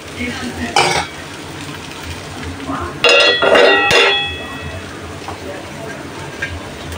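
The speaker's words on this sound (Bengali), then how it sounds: "চালটা ভাজা হয়ে গেছে, পানি দিয়ে দিব, গরম পানি।" Rice frying in a pot with ground ginger, garlic and cumin paste plus whole cumin seeds, cooked at home for Eid: a soft frying hiss under scraping stir strokes, with a cluster of metallic clinks and clanks against the pot midway.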